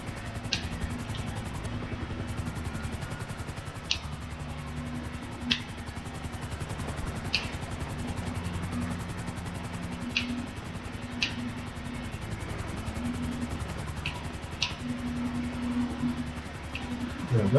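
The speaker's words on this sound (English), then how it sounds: "I'm trying to land a helicopter on a tower." Helicopter flying in the video game GTA 5 while being brought in to land on a tower: a steady low rotor drone with a tonal hum runs throughout, with short sharp clicks recurring every second or so over it.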